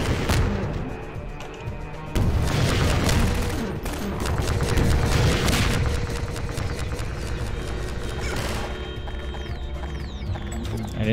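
Rapid bursts of gunfire and heavy explosive booms in the Half-Life 2 first-person shooter, loud and dense, firing in clusters with brief gaps, no talking over it.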